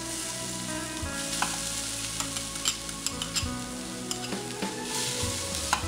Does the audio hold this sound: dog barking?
no